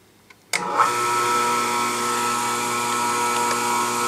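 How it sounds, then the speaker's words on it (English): Oregon 520-120 chain grinder starting up and settling into a steady, even motor whine while it sharpens a left-hand chainsaw cutter, loud and close with no voices. "I'll do a quick tooth for you. They'll do a quick left hand cutter."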